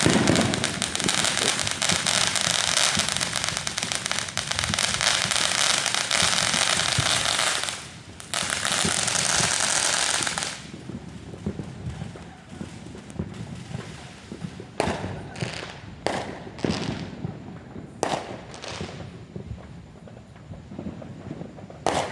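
Fireworks go off on Bonfire Night in Fullerton, California: a loud sustained crackling barrage gives way to scattered sharp bangs and pops at varying distances.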